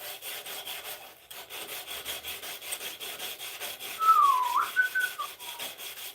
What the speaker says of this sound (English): Let us finish sanding this